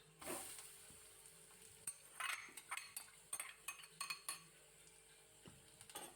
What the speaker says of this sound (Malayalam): ബീട്രൂട്ട് ചേർത്തതിന് ശേഷം നന്നായിട്ട് ഇളക്കി യോജിപ്പിക്കുക